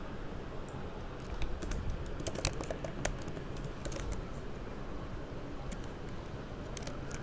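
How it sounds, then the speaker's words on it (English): Keys tapping on a computer keyboard as a short sentence is typed out, soft scattered keystrokes in a quiet room with no talking. "So I'll just type it out here."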